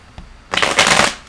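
Tarot cards being shuffled during a reading, a quiet tap then a dense burst of riffling card noise lasting about half a second, close and fairly loud with no talk.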